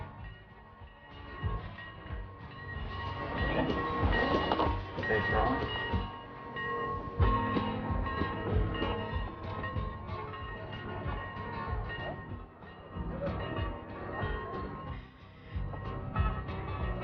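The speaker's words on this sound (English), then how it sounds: "an old steam locomotive thundering down the tracks" An old steam locomotive thunders down the tracks as a dense, loud rumble with rolling wheel noise that swells and eases, a steady roar with no clear whistle standing out.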